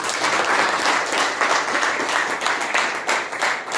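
Enthusiastic applause from a gathered group at an office celebration, with many hands clapping loudly and continuously, close by and without any speech on top.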